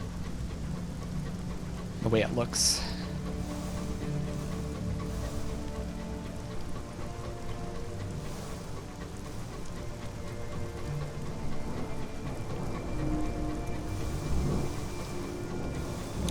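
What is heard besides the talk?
rain in the video game Sunless Skies at Port Avon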